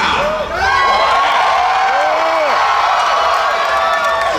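A crowd at a New York Comic Con 2018 panel for Runaways cheers loudly, with whoops, shouts and clapping merging into a dense, sustained roar that starts almost immediately.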